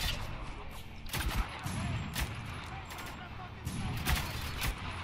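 Gunfire in the co-op shooter Spec Ops: The Line: sharp bursts of shots and impacts crack repeatedly over a constant battle din, while players talk throughout.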